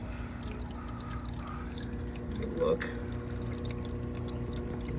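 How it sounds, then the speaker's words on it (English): Water trickles and drips into a JBJ nano aquarium from an auto top-off line, a soft steady flow with a brief louder splash midway, with a voice speaking briefly over it. "As you see, the water's flowing in there now."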